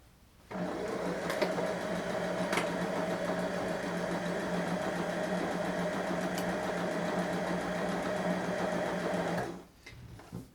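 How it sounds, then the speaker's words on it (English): A sewing machine stitches fabric for a comfy pants pattern, starting abruptly, running at a steady, even hum for about nine seconds with a few light clicks, then stopping. "You can turn your sewing machine on."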